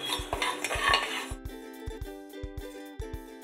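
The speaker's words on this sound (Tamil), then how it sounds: "இப்போ நம்ம வெந்தயத்தை வறுக்கலாம்." Dry roasting of fenugreek seeds in a pan for sambar powder, with no oil: a spoon scrapes and clinks against the metal in a steady series of close, crisp taps, busier at first and then more spaced out.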